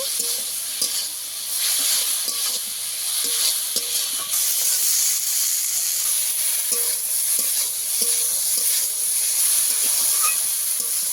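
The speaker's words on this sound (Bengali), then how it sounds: "বেগুন আর ডিমের শাক একসঙ্গে আমি ভালো করে ভেজে নিয়েছি" Eggplant and gima greens sauté in a pan with a constant bright sizzle and hiss, broken by regular scraping stirs of a spatula, loud and close with no voices.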